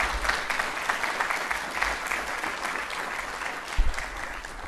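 Steady audience applause fills the room after a live musical performance by a duo at a UNESCO remembrance event, a dense wash of clapping that holds evenly throughout with one brief louder burst near the end.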